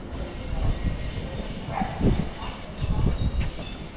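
A Northern passenger train rumbling along with low, steady wheel noise and faint squeals, heard from inside, moderately loud and continuous.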